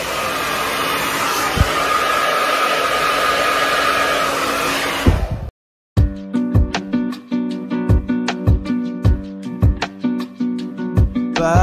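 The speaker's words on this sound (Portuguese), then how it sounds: "vou ter que secar meu cabelo pra cá na sala" A hand-held hair dryer blows loudly and steadily while drying hair indoors in a living room for several seconds, then cuts off and gives way to rhythmic pop music.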